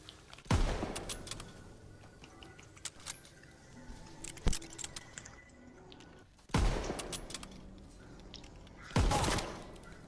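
Sparse gunshots in the Call of Duty WW2 video game, a few sharp loud cracks spaced several seconds apart over quiet background clatter.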